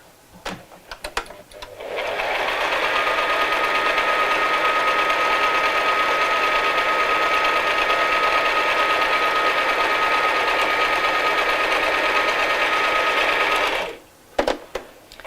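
A sewing machine runs continuously for about twelve seconds, stitching a strap on a child's first tote bag, a close, loud, even mechanical whir that starts and stops abruptly with brief handling clicks around it.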